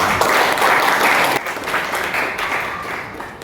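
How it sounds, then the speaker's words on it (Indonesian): A crowd at a formal signing ceremony applauds loudly, a dense burst of clapping that gradually thins and fades over a few seconds. "tepuk tangan untuk Telkomsel"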